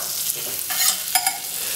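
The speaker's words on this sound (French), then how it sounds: "dans une casserole, faire fondre une noisette de beurre" Steady, moderately loud frying sizzle with crackling bursts of a knob of butter melting and bubbling in a hot saucepan, with no talking.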